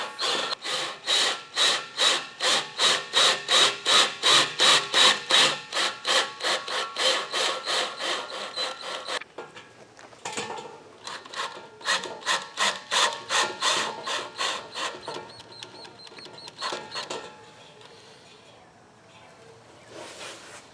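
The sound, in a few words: driving self-tapping screw to mount vehicle LED light bar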